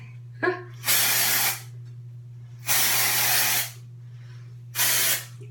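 Three sustained sprays of hairspray, each a steady hiss lasting about a second, separated by short pauses, close up over a low steady hum.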